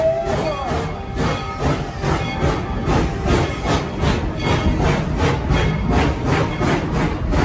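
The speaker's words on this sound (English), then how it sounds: "Please stay seated while the train is moving." A steam train rolls along at Tweetsie Railroad, heard from on board as a loud, continuous rumble with a regular rhythmic chugging pulse and hiss, no talking over it.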